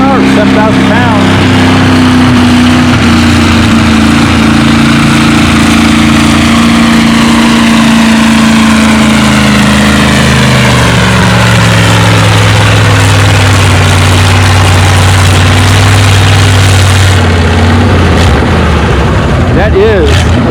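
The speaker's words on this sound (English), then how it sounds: "That is a big cubic inch International V8 in this thing." A big cubic-inch International V8 in a W9 tractor roars loudly and close at a tractor pull, its pitch sagging as the load builds during the pull, with a voice talking over it.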